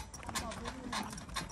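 A young filly's hooves clip-clop in a quick steady rhythm while pulling a horse buggy, close and clear, with someone talking over them.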